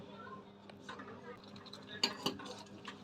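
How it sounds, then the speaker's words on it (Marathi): Pea kheer is stirred in a pot, with soft scraping and a couple of sharper clinks of the spoon against the metal, fairly quiet and close. "आता हिला ढवळत राहायचे सतत कंटिन्यू"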